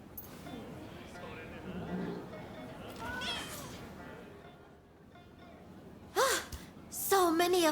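Cats meowing in the Rise of the Ronin video game, a few short rising cries near the end over quieter background game sound, with a voice speaking earlier.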